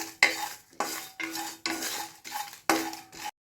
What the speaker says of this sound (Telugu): మనకు కావాల్సిన మసాలాన్ని కొంచెం దోరగా వేయించుకుందాం సిమ్లో పెట్టి.